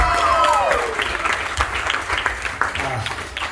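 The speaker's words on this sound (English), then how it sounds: "Don't stop applauding." Audience applause at a Bollywood dance show in Colombo, scattered claps and crowd noise fading under lingering music and a voice, moderately loud.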